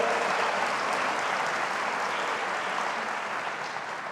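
Church congregation clapping for the Lord during a worship service, a steady, dense wash of applause that fades slightly near the end.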